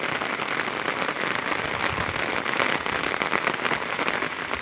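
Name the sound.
continuous heavy rain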